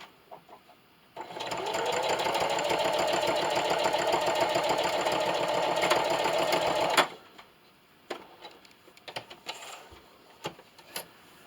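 A sewing machine stitches and backstitches a seam on an easy baby bib, running as a loud, steady mechanical whir for about six seconds before stopping, followed by scattered clicks and handling taps.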